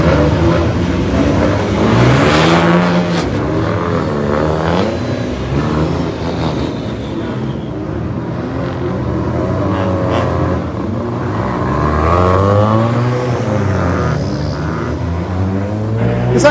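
GT race cars at a grid start on a Thai racetrack make a continuous engine roar, with revs rising and falling as several cars are heard together.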